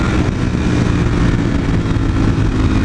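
A motorcycle engine pulls hard in fourth gear, a loud, steady, close-up drone of engine roar and wind rumble with no break across the stretch.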